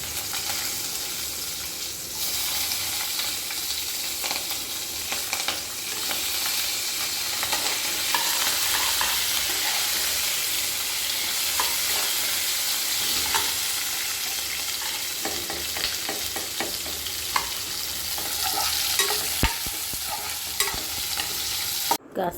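Onions frying in a pan for semiya upma, stirred with a spoon: a steady, close sizzle runs the whole time with occasional scrapes and clinks from the stirring.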